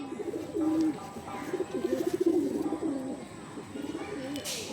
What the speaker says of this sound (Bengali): অনেক বড় পায়রা।